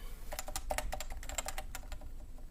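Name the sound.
typing on a Topre Type Heaven keyboard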